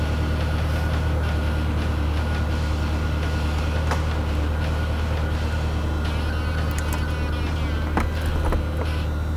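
A 2001 Ferrari 360 convertible runs at idle while its power top cycles, a steady engine drone with faint mechanical whirring and a few clicks and ticks near the end.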